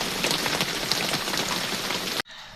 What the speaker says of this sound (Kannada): ಮಳೆ ನಿಲ್ಲುತ್ತೆ ಅಂದ್ಕೊಂಡು ನೋಡಿದ್ರೆ, ಆದರೆ ಮಳೆ ನಿಂತಿಲ್ಲ